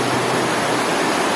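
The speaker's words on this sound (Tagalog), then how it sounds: "Grabe ang lakas pa rin ng ulan. Lalong mas lumakas pa yung ulan." Heavy rain pours steadily in a rural province during a flood, a dense unbroken hiss close by with no thunder or voices standing out.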